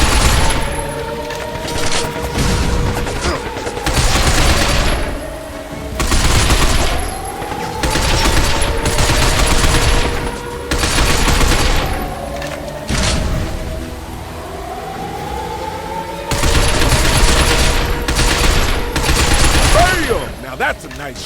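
Gunfire in the sci-fi shooter Binary Domain, with bursts of automatic fire and booming shots in several loud clusters over game music and effects, and voices speaking between the volleys.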